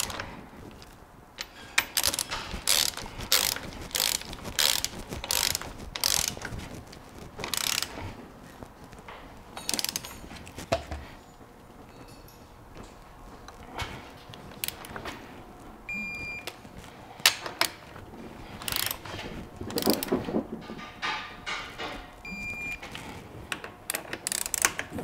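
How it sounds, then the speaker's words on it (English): Ratcheting wrench torquing bolts on a Land Cruiser split-case transfer case, with repeated quick clicking bursts and metallic ratchet pawl sounds close by across the clip. "Okay, we've got those torqued in place."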